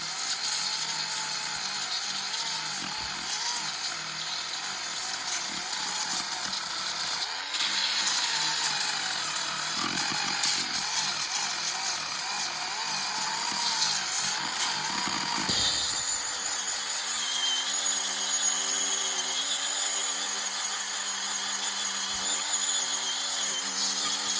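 A power sander works the rim of a wooden bowl being made into a sink, a steady close whirring grind with a shift in tone partway through, running alone without voices.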